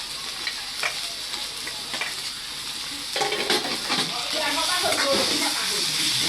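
Onion, ginger-garlic paste, tomato and green chilies sauté in a pan, a steady sizzle that swells louder midway as a spatula scrapes and stirs, with a voice speaking quietly underneath.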